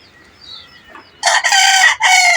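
A rooster crows loudly and close in a chicken farm, a long strained call in two bursts, after a few faint clucks and rustling.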